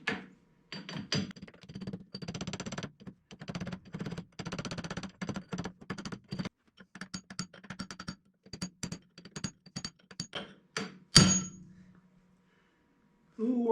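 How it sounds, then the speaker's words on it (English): A hammer drives a new grease seal onto the spindle of an Allis Chalmers 190XT tractor, with rapid metallic taps in irregular bursts at close range, then one louder clank and a pause. "I need to drive my grease seal onto the spindle here."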